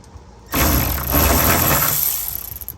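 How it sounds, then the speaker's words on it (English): A ratchet wrench with a 10mm socket turns nuts on the quick access panel of a 2004 Pontiac Grand Prix GTP, a loud close burst of rapid clicking and grinding that runs about two seconds before tapering off. "what you're going to need in this case is a 10mm socket, because those are 10mm nuts"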